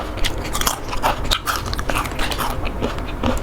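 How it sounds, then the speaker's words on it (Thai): Crispy purple sweet potato snack crunches between the teeth in repeated close bites and chewing, a dense crackly texture throughout. "มันม่วงก็อร่อย กรอบหอม"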